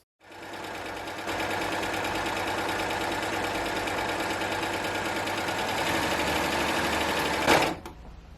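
A Baby Lock Acclaim overlocker runs steadily for about seven seconds, gathering fabric at a long stitch length, with a fast, even mechanical whir and a brief louder clunk just before it stops.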